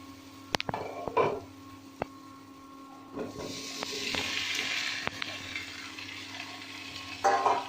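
Kabuli chickpeas and kidney beans go into a hot pan for ghugni, giving a faint hiss that swells into a brief sizzle, with a few light spatula taps and scrapes in a quiet kitchen.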